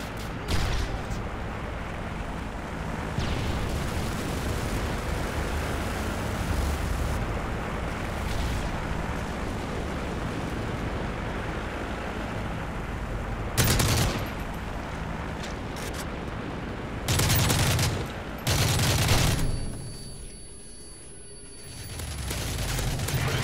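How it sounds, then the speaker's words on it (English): A strafe run in Modern Warfare 3 on a village map, with a continuous roar of gunfire and rumbling explosions punctuated by several loud, heavy blasts, then tapering off near the end. "Friendly strafe run incoming."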